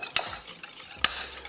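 Spoon stirring a yogurt marinade with Kashmiri chili, salt and turmeric in a bowl, heard as a few close, soft scrapes and clicks against the sides.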